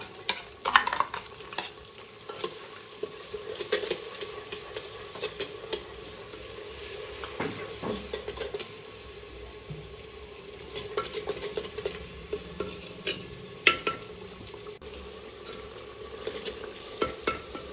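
An onion and tomato masala paste fries in oil in a clay pot for a mutton curry: a soft, steady sizzle under frequent scraping stirs and occasional sharp utensil clinks against the pot.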